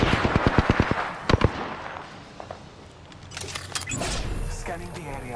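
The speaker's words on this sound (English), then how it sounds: "Shot fired, and they're hitting me" Video game gunfire opens with a rapid burst of about eight evenly spaced sharp shots, then a few more cracks, before fading into busier mixed game noise, with a voice speaking over it.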